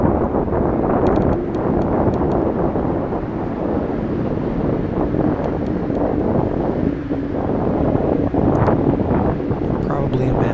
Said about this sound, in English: certainly there was a fair amount of wind on that day